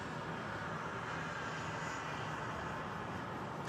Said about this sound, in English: There's the 321 Neo of Aer Lingus for the return